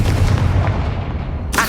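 A Confringo blasting spell cast in the game Hogwarts Legacy: a loud, sustained rumbling boom with heavy low end that slowly fades, followed by a brief sharp burst at the end.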